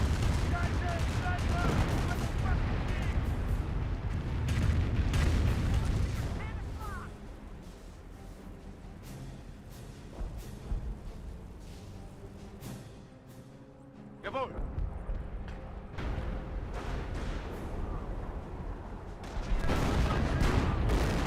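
A rocket barrage in the real-time strategy game Company of Heroes, a dense volley of loud booming blasts and rapid explosive bursts that fades into a quieter stretch, then resumes with scattered impacts and a heavy final burst.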